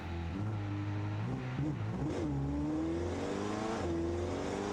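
Beetle car built in Automation, driven in BeamNG.drive, its engine held at full throttle: a loud, steady revving drone whose pitch climbs through gear changes, sustained and close throughout.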